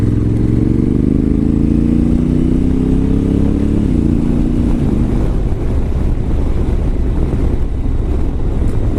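A Honda Africa Twin motorcycle riding on a paved road, engine drone rising steadily in pitch as it accelerates, then blending into heavy, constant wind rush buffeting the microphone, loud and continuous with no voices.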